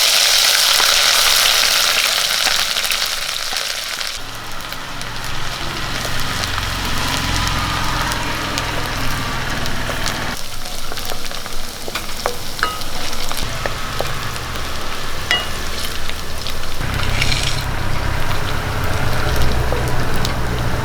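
Mustard seeds, crushed shallots, garlic, ginger and kanthari chili hit hot oil for Kerala rasam, a loud crackling sizzle that surges with each addition and settles into steady frying with occasional stirring.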